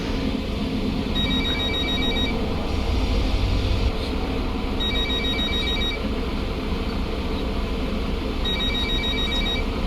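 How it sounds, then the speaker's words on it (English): Telephone ringing in The Bus bus-driving game: bursts of a bright electronic ring repeat three times, evenly spaced, over a steady low engine and road rumble with no talk. "Someone should answer their phone."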